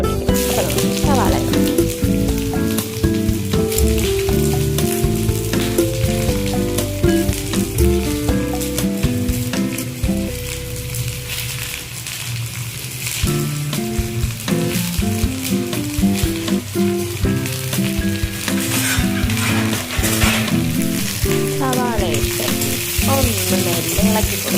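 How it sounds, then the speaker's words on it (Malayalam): Sliced onions fry in hot oil after mustard seeds have spluttered, making a loud, steady crackling sizzle broken by repeated stirring scrapes close up, for an egg curry base. "കടു പൊട്ടി കഴിയുമ്പോഴത്തേക്കും അതിലോട്ട് സവാള"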